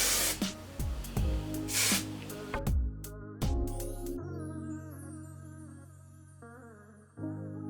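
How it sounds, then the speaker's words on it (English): Aussie Sun Touch Shine hairspray sprayed onto hair in several quick, close hissing bursts at the start, after which only background music continues. "I'm gonna spray up here."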